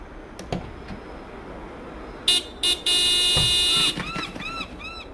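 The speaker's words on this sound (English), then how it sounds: "Do me a favor and honk the horn." A car horn in the video game Broken Sword 5: The Serpent's Curse toots twice in short blasts, then holds one long loud honk, followed by warbling electronic tones, against a quiet ambient game background.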